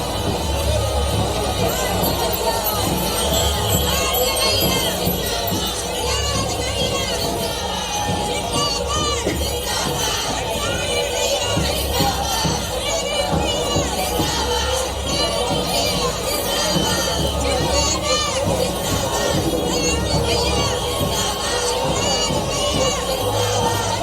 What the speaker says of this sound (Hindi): रोड शो में समर्थकों की भारी भीड़ देखी जा सकती है।